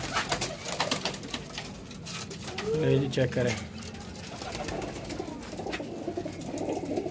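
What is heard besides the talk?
pigeons cooing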